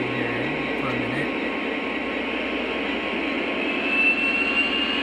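A Lionel SD45 model locomotive in Great Northern livery revved into its first throttle step, giving a steady, loud diesel engine drone throughout with a low hum and faint higher whine.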